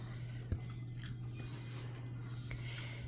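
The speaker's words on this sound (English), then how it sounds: "Now you got the crunch of it, huh?" Barbecue chips tucked into a bologna sandwich crunch faintly as someone bites and chews, with a few sharp crackles over a constant low electrical hum.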